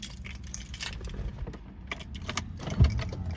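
Keys jangle at the ignition of a 2001 Cadillac Sedan DeVille with 39k miles, a short metallic rattle followed by a brief low thump near the end, close and fairly quiet.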